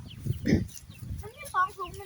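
Short bursts of chicken clucking close by, mixed with a person talking over them.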